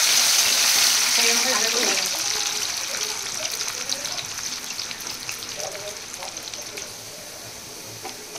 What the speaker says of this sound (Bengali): আলুগুলো রাখবো, লাল ভাজা হয়েছে